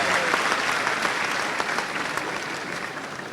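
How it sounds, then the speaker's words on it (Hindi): A large audience claps steadily and loudly for several seconds at a Madhya Pradesh Foundation Day event, a dense wash of applause that slowly tapers. "जोरदार ताली बजाओ"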